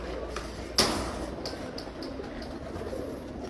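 A champion female racing pigeon on a rooftop loft, giving a sharp wing clap or flutter followed by soft, faint cooing and light rustles at close range against steady background noise.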